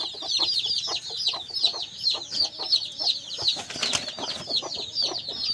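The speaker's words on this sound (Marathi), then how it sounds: "हे बघा अंड्यावर बसवलेली कोंबडी बघा" A hen sitting on eggs and nearby chickens clucking and peeping in quick repeated bursts, close by and fairly steady, with some rustling and no talking.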